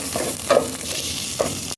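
Whole spices such as cinnamon stick, cloves and cardamom stirred and fried in a pan for a saluna fish dish, giving a steady close sizzle with a couple of scraping stirs.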